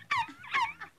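A human voice imitates a poodle dog, giving two short high yips and a smaller third one in quick succession, close and clear.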